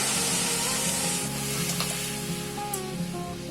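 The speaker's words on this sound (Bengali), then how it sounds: "ফোড়নের সুন্দর গন্ধ বেরোলে দিয়ে দিচ্ছি সেদ্ধ করে রাখা মুসুর ডালটা।" Boiled masoor dal goes into a hot mustard-oil tempering of dried red chillies and panch phoron and is stirred, giving a steady close sizzle with scraping stir strokes and no voices.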